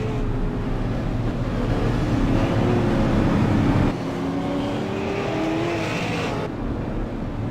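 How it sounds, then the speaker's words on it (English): Race cars roar around Lucas Oil Raceway during a SARA Super Series event, a loud, continuous engine drone that swells and fades as cars pass close by. "Looks like Devin Rogers is going to get a wave around the pace car"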